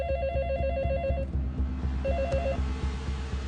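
A telephone rings in a scene from the film Robo 2.0, with repeated electronic ring bursts over a low pulsing hum, fairly close and without speech.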